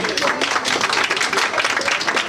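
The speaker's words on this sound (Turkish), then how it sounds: "bir güçlü moral alkışı almak istiyorum." A crowd at an event gives a lively round of clapping, dense and close, with voices faintly mixed in under the steady patter.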